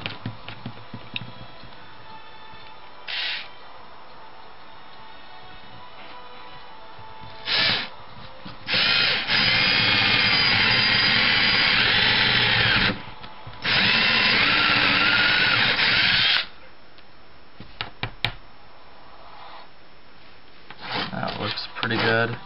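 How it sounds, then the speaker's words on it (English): Power drill boring two holes in a wooden block, with several short bursts and two long, loud whirring runs separated by pauses, plus quieter handling noises in between. "Now we're gonna take our block, drill here, drill two holes here and here, about an inch apart"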